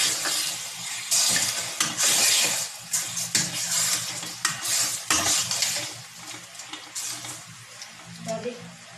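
Pork sizzles loudly in a hot pan while a utensil scrapes and stirs in bursts, with rhythmic clatters and hissing close by.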